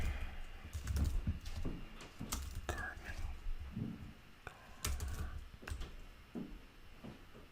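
Soft, irregular clicks of typing on a computer keyboard, in quick bursts separated by short pauses, close and quiet.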